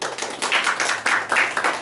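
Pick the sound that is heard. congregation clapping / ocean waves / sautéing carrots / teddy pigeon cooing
congregation clapping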